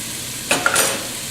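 Food in hot oil gets stirred in a pan, a short scraping swirl with crisp sizzle lasting under a second, close and clear over a quiet background.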